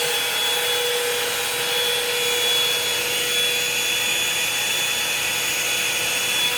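A blow-dryer brush dries a section of long hair with a steady, loud, high whirring airflow hum that stays constant throughout, with no talking.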